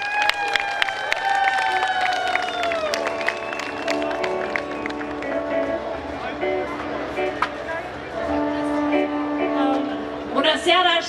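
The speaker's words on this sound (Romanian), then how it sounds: "aplauze!" Applause from a concert audience in Moinești, Romania, greeting a singing couple as they take the stage at a recital, with crowd noise, musical tones and a voice speaking over it.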